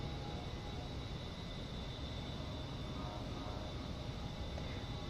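Aircraft engines in a flight simulator game, throttled back at 200 knots, hum as a steady, even, continuous drone with no talk.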